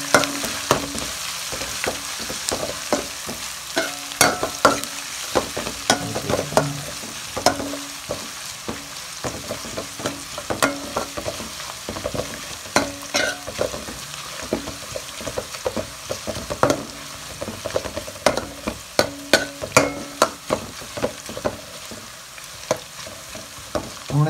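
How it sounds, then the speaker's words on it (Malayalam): Vegetable curry with green chillies fries in a pan, a continuous sizzle broken by frequent scraping and clinking strokes of a spoon stirring, fairly close and loud throughout with no talking. "നന്നായിട്ടൊന്ന് ഇളക്കി കൊടുക്കുക ഒരു സൈഡ് മാത്രം ഒരിക്കലും കറിയാതെ"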